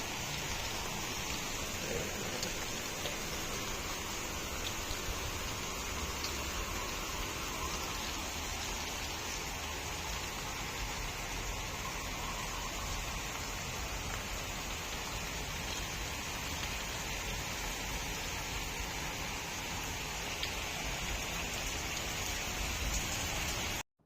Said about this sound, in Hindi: मस्त वाली बारिश।